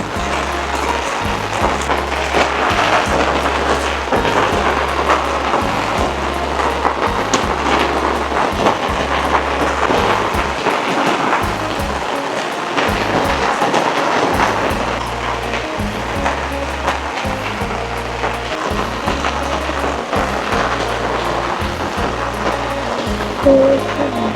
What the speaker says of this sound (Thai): น้ำไหลหลากแล้วเด้อตอนนี้เด้อเบิ่งฝน